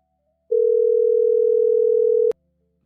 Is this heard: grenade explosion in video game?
no